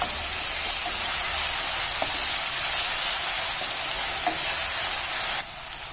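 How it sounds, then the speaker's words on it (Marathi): Tomatoes sautéing in oil with onions and chopped chilli in a pan, a loud steady close-up sizzle with faint occasional stirring clicks, the hiss dropping slightly right at the end. "आपल्याला टोमॅटो सॉफ्ट होईपर्यंत चांगला परतून घ्यायचा आहे"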